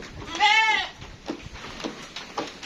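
A Dorper sheep at a livestock sale pen gives one clear, loud bleat, followed by a few fainter calls and small shuffling sounds.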